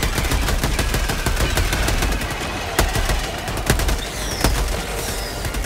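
Sustained automatic gunfire in Helldivers 2 co-op play, a loud dense stream of rapid shots with a few sharper louder bursts standing out, with no talk.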